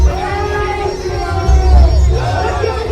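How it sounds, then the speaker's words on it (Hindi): A Ramleela fair crowd at the Luv Kush event fills the air with constant nearby chatter and murmuring, and someone talks over the noise throughout. "भीड़ देखिए, अब धीरे धीरे भीड़ बढ़ती जा रही है और लोग"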